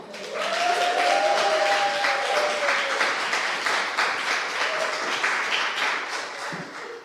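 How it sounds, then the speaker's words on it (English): Sustained applause at a press conference for a youth organization's operations director, a full crowd clapping loudly and continuously, with a few cheers and faint voices mixed in. "Please join me and give it up for GDYT's Director of Operations, the awesome Misty Evans"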